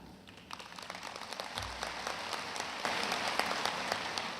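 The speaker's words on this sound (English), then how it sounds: "I'm going to encourage you to clap," Audience clapping at a university spring commencement, a distant crowd of hands in a large hall that builds gradually into steady, sustained applause.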